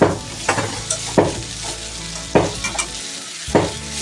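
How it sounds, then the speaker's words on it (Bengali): Egg-coated cauliflower sautéing with torn bay leaves in a pan. A steady sizzle is broken by repeated scraping stirs, about five strokes spaced irregularly, close and fairly loud with no talking. "এবার আবারও আমি সুন্দর করে কষিয়ে নিই"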